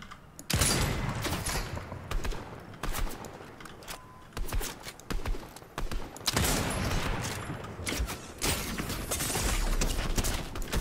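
Rapid bursts of gunfire in the video game Fortnite, repeated close volleys and scattered single shots over busy in-game noise, nearly continuous throughout.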